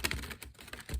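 Tarot cards being shuffled close up, a quick run of dense, rapid clicking and riffling taps with no voice.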